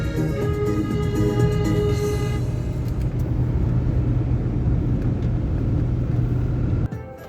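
A car drives along a road with a loud, steady engine and tyre rumble throughout, which drops off abruptly at the end.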